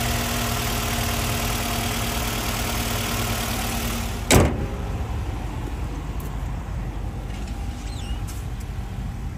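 A 2012 Nissan Rogue's 2.5-liter four-cylinder engine idling under an open hood, a steady close hum with a constant high whine, broken once by a single sharp click or clunk midway.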